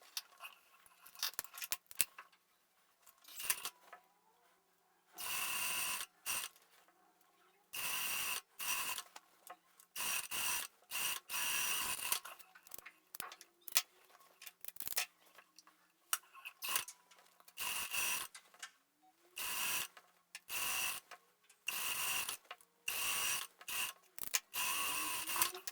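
A sewing machine stitches a wide hem on handmade shorts in repeated short bursts of fast mechanical whirring, separated by brief pauses, fairly close with no voices.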